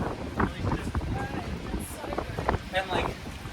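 Strong gusts of wind blow through downtown Toronto on a mild day, a low buffeting rumble that swells and eases, with faint voices underneath.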